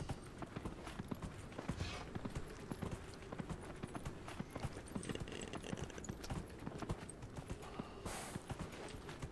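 Horse hooves clip-clop at a steady trotting rhythm while riding in the video game Dragon Age Inquisition, continuous and fairly close over a soft ambient background, with no talking.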